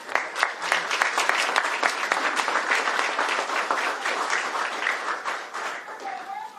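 Applause from the audience at a governor's bill signing, a steady wash of clapping that runs the whole stretch with dense individual claps, tapering slightly near the end, with a voice faintly surfacing over it.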